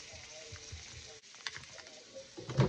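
Food sizzles softly in a skillet over a fire, a faint steady hiss with a few light stirring knocks that rise louder at the end, with no talking.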